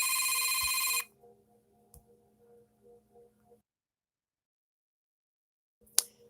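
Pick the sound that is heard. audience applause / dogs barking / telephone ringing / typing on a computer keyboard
telephone ringing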